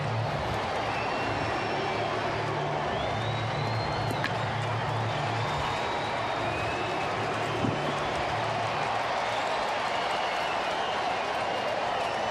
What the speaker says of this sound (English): Crowd trying to breathe some life into Todd Frazier